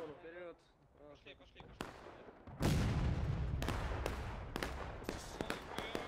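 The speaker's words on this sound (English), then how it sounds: "A hell of a canister shot there" Artillery fires canister shot on the Limestone Bridge map in War of Rights, with a big blast followed by crackling volleys of musket fire. Someone speaks before the blast.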